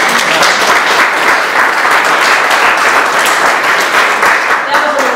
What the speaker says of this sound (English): You can give us a round of applause if you think we're doing a good job.